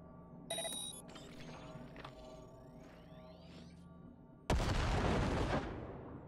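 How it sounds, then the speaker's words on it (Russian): A grenade detonates in the video game Cyberpunk 2077, a sudden loud broadband blast about two-thirds of the way in that decays over a couple of seconds, following quieter game sounds, clicks and mechanical noises. "Так, нажмите взрыв гранаты."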